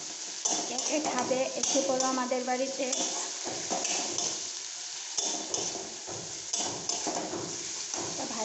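Eggs frying in spiced oil in a pan, stirred with a spatula, giving a close sizzle with clinks of utensils against the pan while someone talks over the cooking.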